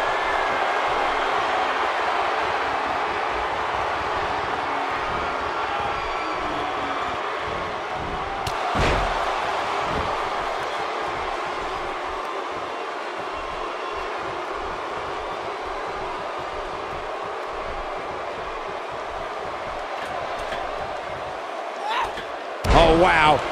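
A wrestler slams onto the mat in the WWE 2K18 video game, with a sharp thud around the middle and another heavy impact near the end over steady crowd noise and commentary.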